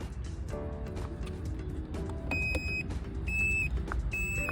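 Electric scooter turn indicator alarm, a 2023 budget model, beeping in repeated short high electronic tones over steady background noise, with no talking.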